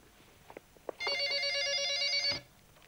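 A telephone rings once in a single continuous burst of bright electronic ringing lasting over a second, loud and close, with no talk over it.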